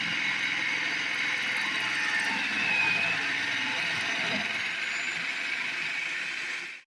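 A kitchen food processor runs steadily, chopping cauliflower into rice-sized bits, a continuous close whir and rattle that holds at an even level for about seven seconds before cutting off abruptly.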